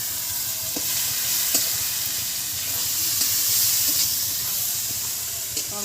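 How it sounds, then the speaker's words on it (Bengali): Chicken and spices, including chili powder, sizzle steadily in a hot pan for a thin country-rooster curry, with spoon scrapes and taps from stirring breaking through the continuous frying hiss. "মায়ের সব মশলা দিচ্ছে, আমি নাড়াচাড়া করছি।"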